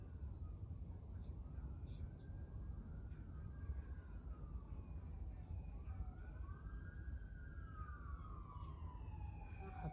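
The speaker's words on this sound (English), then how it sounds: "apologize for the sirens," Emergency vehicle sirens passing outside, wailing tones rising and falling repeatedly over several seconds, distant and faint beneath a low rumbling background.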